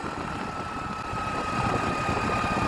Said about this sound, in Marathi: अजून एक गाडी येता नेटान